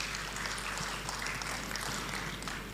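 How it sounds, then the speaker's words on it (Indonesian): Steady applause from a church congregation for three friends during a sermon, dense continuous clapping filling the room at moderate volume throughout. "tepuk tangan buat teman-teman saya bertiga"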